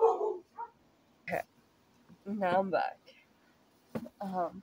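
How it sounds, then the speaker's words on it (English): A dog barks and yips in short bursts between stretches of nearby talk, the barks sharp and fairly close, with someone speaking briefly in the room. "the barking"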